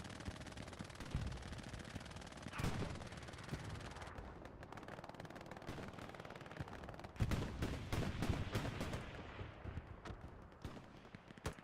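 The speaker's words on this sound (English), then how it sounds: "A lot of good RD shots coming in. A lot of good tank shells coming in." Dense battlefield gunfire and artillery from the WWII shooter Hell Let Loose, with overlapping rifle and machine-gun bursts and heavy tank shell impacts. The sharpest cracks fall near 2.6 s and from 7 s onward, over a constant rumbling background.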